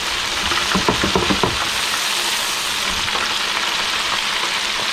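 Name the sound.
bowfin fish frying in pan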